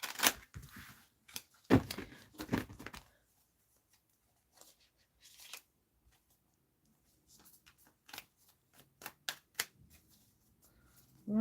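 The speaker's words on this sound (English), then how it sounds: "I'm gonna shuffle up really well" A deck of reading cards is shuffled in close, sharp riffling bursts separated by quiet gaps, with softer card taps and handling between.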